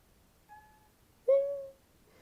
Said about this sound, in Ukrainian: Що мяу?